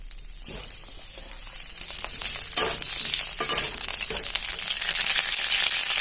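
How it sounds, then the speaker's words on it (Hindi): Cauliflower sizzles in hot refined oil in a wok, a steady bright frying hiss that grows louder, with occasional clinks of a utensil stirring the pieces close by and no talking. "तेल टिके गरम हला परे ए कोबी को देई भल भाबे आमे भाजी दबा"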